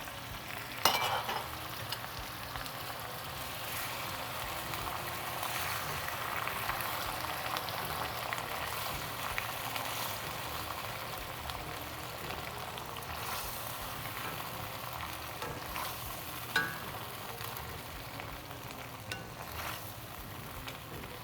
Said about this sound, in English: I'm going to go and scoop in 1 ladleful.